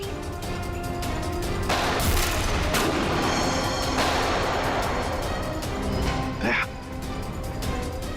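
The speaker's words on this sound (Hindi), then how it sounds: "वहां से चल रही है गोलियां" Gunfire crackles through a scene from a TV crime drama in rapid, dense bursts and booms that stay loud and close for several seconds, with shouting voices mixed into the shooting.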